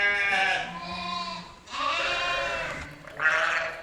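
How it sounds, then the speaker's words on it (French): Shropshire sheep bleat in an orchard, three drawn-out harmonic calls in a row from several animals close by, each bleat loud and wavering, with no talk over them. "Le troupeau de moutons qui est censé entretenir le verger, donc c'est la race Shropshire qui ne broute pas les écorces"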